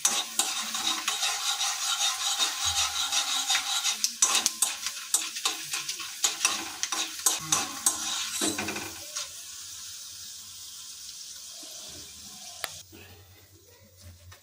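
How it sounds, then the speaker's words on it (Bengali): Tarka dal fries in hot oil over a low flame while a spoon stirs it, bright sizzling under repeated scraping and clinking strokes that fade to a quieter simmer toward the end. "তড়কা ডাল যোগ করেছি, ভালোভাবে এখন চামচ দিয়ে নেড়ে নেব"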